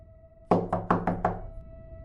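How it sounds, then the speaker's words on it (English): Knocking in a narrated horror story, five sharp knocks in quick even succession on a hard surface over a faint steady hum, with no voice during the knocks. "The knock came again,"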